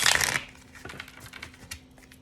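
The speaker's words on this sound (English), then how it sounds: "I shuffle this additional deck for deeper insights" A deck of tarot cards being shuffled by hand, with a loud burst of riffling at the start and then softer, scattered clicks and taps trailing off. No one speaks.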